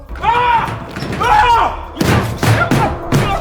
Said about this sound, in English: the door suddenly slammed shut on its own